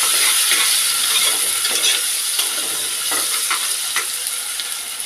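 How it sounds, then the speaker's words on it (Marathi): Chopped onion sautéing in hot oil with bay leaf, cinnamon, cloves and cardamom, a steady close broadband sizzle with occasional faint stirring scrapes throughout. "कांदा परतूया।"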